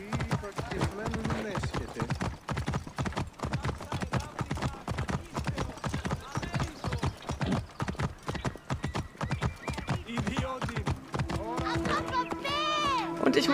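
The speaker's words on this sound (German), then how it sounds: "Dann reiten wir mal mit dem gestohlenen Pferd." A horse gallops in Assassin's Creed Origins, steady rapid hoofbeats running throughout with a short neigh near the end, while someone talks over the top.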